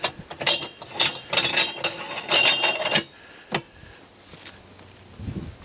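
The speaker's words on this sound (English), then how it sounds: "put this back on and screw it down." A ratchet turns in quick clicking bursts as a small holder, set through a lug nut hole, is screwed down; the close, loud pawl clicks run for about three seconds, then fall to a few sparse knocks.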